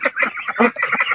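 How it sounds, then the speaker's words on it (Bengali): Domestic ducks and chickens quack and cackle in a busy, overlapping chorus, close and loud, as the flock gathers for food. "আমার হাঁস মুরগি সবাই চলে আসছে"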